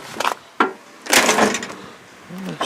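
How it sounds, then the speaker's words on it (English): A Cadillac Eldorado car door swings shut with a solid thump and rattle, followed by a few softer knocks and clunks nearby, with no one speaking. "See what she sounds like when you close the door now."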